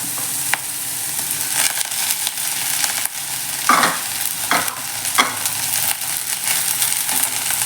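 Onions sauté lightly in a pan for mint rice, a loud continuous sizzle with occasional spatula scrapes and knocks against the metal, close and without voices.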